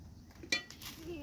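Metal tongs give a single bright clink while lifting schnitzel through an egg wash in a cast iron breakfast setup, a short sharp tap standing out over faint kitchen background.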